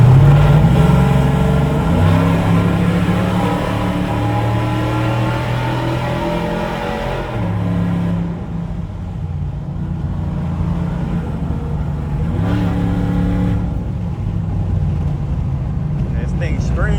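Modded race truck engine revving hard while doing donuts on a street, loud sustained roar with rising and falling pitch as it climbs and drops gears, with speech mixed in.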